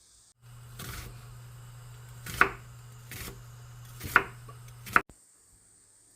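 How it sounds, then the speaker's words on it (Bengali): Onions are thinly sliced on a cutting board for birista, with a handful of separate knife chops spaced about a second apart and the final strokes sharper and louder. They sound close, over a low steady hum, with no talking. "পেঁয়াজটা বেরেস্তার জন্য একদম সরু সরু করে কেটে নিচ্ছি"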